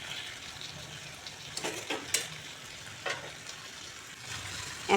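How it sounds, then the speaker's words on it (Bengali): A spicy-sour puti fish curry with olives sizzles in a hot pan as broth is poured in, with steady frying hiss, a few stirring scrapes and faint clinks. "এখন আমি এতে ঝোল দিয়ে দেব।"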